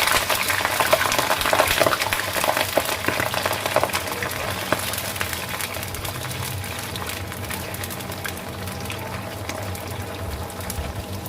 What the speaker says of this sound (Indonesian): Sekarang saya mau goreng tempuranya dulu teman-teman. Di sini udah panas minyaknya